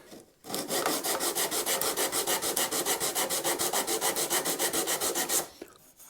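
Sandpaper is rubbed by hand over the thin wood veneer of a guitar body in fast, even back-and-forth strokes. About two dozen rhythmic rasping passes sound loud and close, starting and stopping abruptly.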